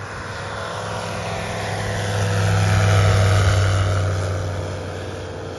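A three-axis ultralight's piston engine and propeller accelerating in level flight, heard as a close, steady droning hum that swells in the middle of the clip and eases off again, with no voices.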